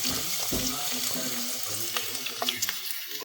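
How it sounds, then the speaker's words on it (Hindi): Onions sauté in two to three tablespoons of hot oil in a pan, giving a close, steady sizzle with scraping stir sounds, fading to silence at the end. "अब मैं इसमें सबसे पहले प्याज को सौते करूँगी"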